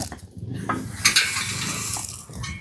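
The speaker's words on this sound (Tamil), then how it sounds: "எள் கிளறி நல்லா வைக்கிறேன்" Sesame seeds being stirred in a pot for village-style aadi pori, a grating scrape of the ladle against the pot with a sharper clink near the middle, close and continuous, with no speech.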